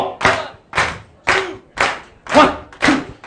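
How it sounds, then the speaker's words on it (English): A crowd at the live launch event for the book Scion of Ikshvaku claps in unison: six loud, sharp claps in a steady rhythm, about half a second apart. "Come on, clap those hands!"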